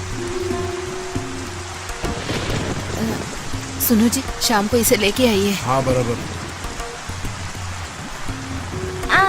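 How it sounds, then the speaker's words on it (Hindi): Steady rain hisses in the background while people talk in Hindi over it in a film scene, with some voices rising louder partway through. "अरे कैसा बारिश है ये।"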